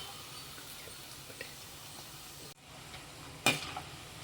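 Toor dal vadas fry in hot oil with a low, steady sizzle, faint and close, broken by a brief clink of a utensil turning them near the end.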